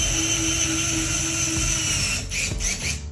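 A Milwaukee right-angle drill drives screws into a ceiling fan canopy, a steady high whine from the motor that runs continuously and close, then stutters and briefly drops out near the end as the screw seats.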